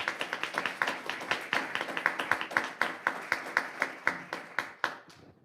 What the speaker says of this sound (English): give them a round of applause for the work that they